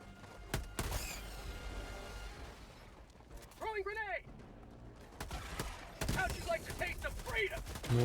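Helldivers 2 combat with sharp gunshots and a grenade blast, a rising electronic whine in the middle, and someone talking over the action.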